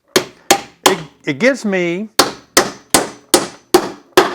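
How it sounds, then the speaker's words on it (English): A steel hammer pounds nails into wooden bee boxes in sharp, evenly spaced blows, about ten close strikes with a brief spoken phrase in the middle. "a lot of control when I'm pounding nails in."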